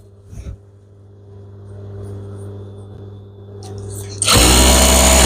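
A sewing machine stitching a duvet cover trimmed with lace and netting starts up after a short quiet pause with faint handling and speech, then runs loud, steady and close.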